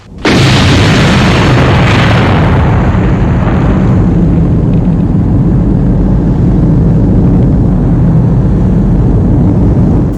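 A massive nuclear bomb explosion in a film bursts in suddenly, then a long, loud, rolling roar of rumbling blast noise that stays thunderous for several seconds.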